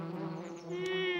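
Cartoon bees buzz around a flower in an animated children's show, a steady droning hum that swells slightly toward the end with no talk over it.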